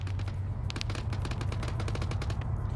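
Rapid, sustained automatic gunfire from players emptying magazines in an online shooter match, dense overlapping bursts crackling continuously over a steady low rumble with no talk.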